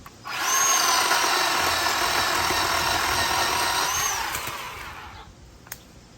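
A Bauer 10-inch 20V cordless chainsaw revs up and cuts through wood from storm cleanup, a steady high motor whine for about four seconds that winds down, with no talking.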